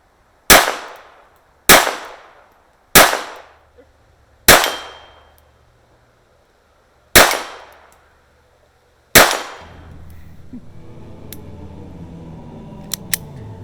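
A World War One French contract Ruby pistol fires six sharp, loud shots at a steel target, spaced about one to two seconds apart with a pause before the last two, each cracking and ringing out, followed by quiet handling noises.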